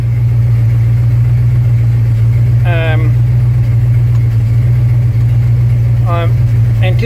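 A 1936 Buick engine with an overheating problem and a thermostat fitted idles with its cowling off, a loud, steady, close low drone that runs unbroken throughout, with a couple of faint brief chirps over it.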